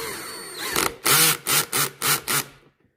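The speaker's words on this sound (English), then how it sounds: "I got my 5/16 nut driver." A 5/16 nut driver loosens a hose clamp on an outdoor sump pump discharge line: five short, loud, close whirring bursts in quick succession after a brief scuffle of handling noise.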